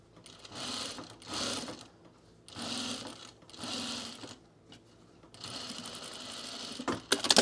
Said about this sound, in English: I'm going to sew into the garment and sew down this binding so it's nice and flat